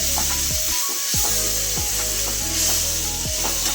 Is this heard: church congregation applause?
no